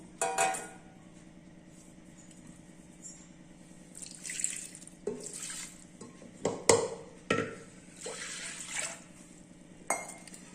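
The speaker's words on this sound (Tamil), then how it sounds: "சேர்த்துட்டு இந்த மூழ்கிற அளவுக்கு தண்ணி ஊற்றிடலாம் நம்ம" Water poured into a pressure cooker over dal, sago and rice, heard as quiet splashing and trickling bursts with clinks of metal utensils, spread irregularly across the stretch.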